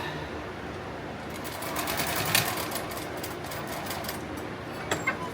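A sewing machine runs a straight stitch through heavy fabric for a tactical plate carrier, a steady rapid whirring clatter with a brief louder burst, heard up close.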